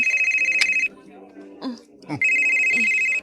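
A phone rings with an incoming call in two loud bursts of repeated electronic trilling, separated by a brief pause in which a voice talks.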